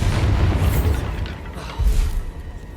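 Bombarda spell blasts in Hogwarts Legacy gameplay, two heavy booming explosions with rumbling low-end bursts and crackling debris in between.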